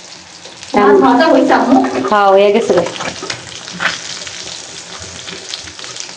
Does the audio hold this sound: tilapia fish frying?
yes